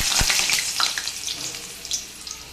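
Cut potatoes sizzle and fry in hot oil with cumin seeds for bhuna khichuri, a loud close crackle that flares at the start as they hit the pan, then settles into a steady hiss.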